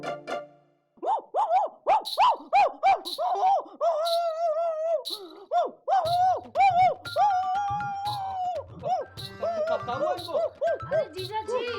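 A voices a long run of rhythmic, yelping dog-bark imitations, close and loud, with short barks repeating in quick bursts and a second voice joining briefly near the end in a comic household scene.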